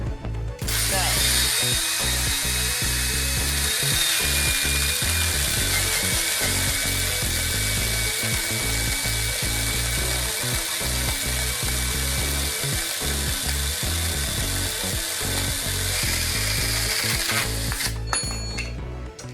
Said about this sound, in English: So let's see how this chainsaw does on this.